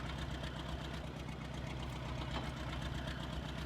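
A tractor engine runs steadily at a low, even idle as it pulls up to a farm trailer, a close, continuous rumble with faint knocking throughout and no talk.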